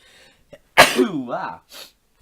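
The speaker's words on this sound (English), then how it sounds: "I'm gonna sneeze" A single loud, sharp sneeze bursts out up close, followed by a brief breathy exhale.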